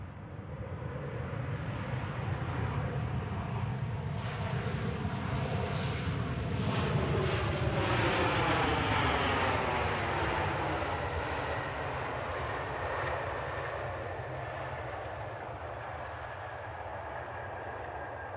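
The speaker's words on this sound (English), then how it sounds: "Ryanair just touching down, coming in from Milan." A Ryanair Boeing 737-800 airliner lands at Manchester Airport. Its jet roar is heard from a distance, rising to a broad rushing peak, then easing off as the engine pitch sweeps downward during touchdown.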